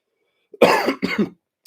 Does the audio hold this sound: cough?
yes